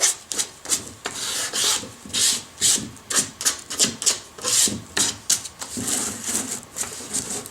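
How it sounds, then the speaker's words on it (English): Sandpaper rubbed by hand around the corners of a wooden candy dispenser to bevel the edges, a close, steady run of short scratchy strokes in an uneven rhythm with no talk. "Here I'm going to give it a quick sanding around the corners, give it kind of a bevel"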